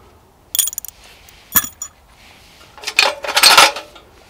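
Parts of a 60-year-old brass camping stove, including the burner, plate and three pot stands, are picked up and set down, giving sharp metallic clinks and rattles in a few short clusters with quiet gaps between.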